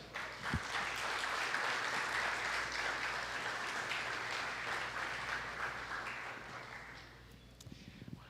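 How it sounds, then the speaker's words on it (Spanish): Steady crowd applause fills the clip, loud and dense, gradually thinning near the end into a few scattered claps. "Por favor, vamos a recibirlo con un fuerte aplauso."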